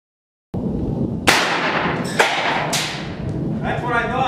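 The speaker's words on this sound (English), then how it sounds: "457 caliber extreme pellet gun against a bowling ball" A .457 caliber big bore pellet gun fires at a bowling ball, giving a sudden loud crack with a sharp impact, then a few more hard thuds and a rattling tail, all close and loud over steady background noise.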